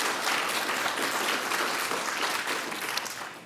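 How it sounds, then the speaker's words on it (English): Conference audience applause for the event chairs: a large crowd claps in a dense, even wash, fairly loud, tapering slightly at the end, with no voices over it. "Please give Ann and Ramon a round of applause for their leadership in chairing this event."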